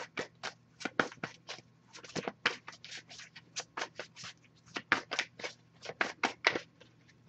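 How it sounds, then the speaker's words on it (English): Close, crisp riffling and snapping of cards being shuffled, in quick irregular bursts with brief pauses between. "I'll give it a few more shuffles."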